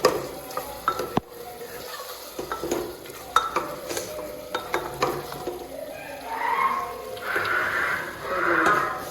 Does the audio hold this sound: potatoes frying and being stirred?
yes